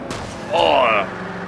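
Race car engine in Forza 5 on Xbox One revving up hard off the launch, a short rising roar that swells midway and then eases, with a thin whine above it.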